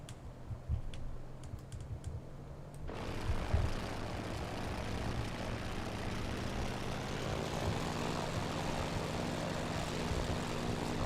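Propeller-driven F4F-4 Wildcat fighter in a flight game, engine droning steadily and swelling to a loud broadband roar as it takes off, with faint keyboard tapping over the engine early on.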